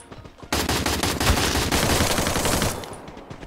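Dense automatic gunfire from the Free Fire battle royale game, a sustained rapid burst lasting a couple of seconds and then tapering off, loud and close with no voices over it.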